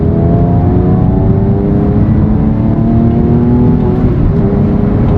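A naturally aspirated Porsche 997 911 Carrera S pulls on throttle, its engine note a loud, steady drone whose pitch climbs gradually as the revs rise, with no talk over it.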